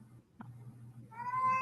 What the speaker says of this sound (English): Is that a cat? Yes.